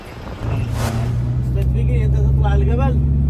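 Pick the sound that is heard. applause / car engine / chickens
car engine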